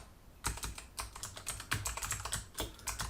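Fast, steady typing of code on a computer keyboard, dense clusters of crisp key clicks heard close up with no talking.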